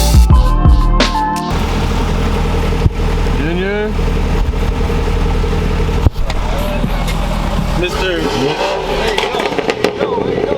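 The engine of a BMW E36 with an LS V8 swap and bagged suspension runs and revs in a loud, rumbling drone, with loud music and rapping playing over it and a few sharp knocks.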